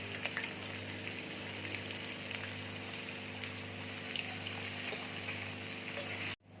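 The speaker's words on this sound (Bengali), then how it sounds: "তেল দেখো গরম হয়ে গেছে, এবার আমি রসুন কুচি দিয়ে দিচ্ছি, আদা কুচি দিয়ে দিচ্ছি" Chopped garlic and ginger fry in hot oil with a steady, moderately loud crackling sizzle and faint stirring scrapes, cutting off abruptly at the end.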